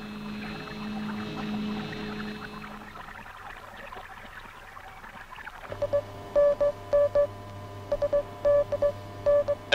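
Underwater sci-fi sound effect of a mechanical fish craft from Titanica, heard on hydrophones: a low steady hum beneath watery wash, then a deeper drone with repeated electronic bleeps and pings in short clusters, with no voices.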